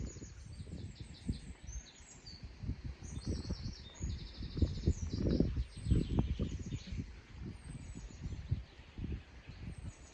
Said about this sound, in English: Hear all the bird song.